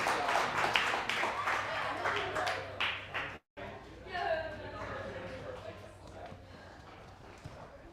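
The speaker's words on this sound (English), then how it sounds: "crowd excited for that clear" Crowd at an urban playground ninja obstacle competition for a kids division cheers and claps after a clear run, a dense continuous wash of applause and excited voices throughout, with a commentator talking over it.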